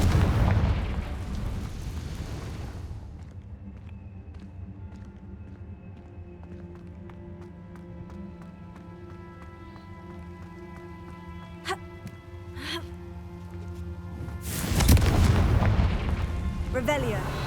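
Confringo spell blasts in the video game Hogwarts Legacy make loud, rumbling explosions at the start and again near the end. Quieter game sounds with a tonal drone fill the stretch between them.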